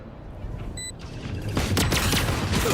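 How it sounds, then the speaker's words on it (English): A burst of rapid gunfire in a Valorant pro match between PRX and FNC, building from quieter game sounds into loud, dense overlapping shots near the end. "Some shots flying."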